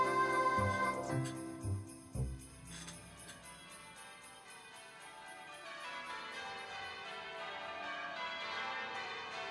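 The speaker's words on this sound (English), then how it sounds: "that definitely adds to this Christmassy feeling song, The Bells at the end" Bells ring out at the close of a Christmas song from the Thomas the Tank Engine series, a chiming wash of layered tones over the fading music, soft and sustained.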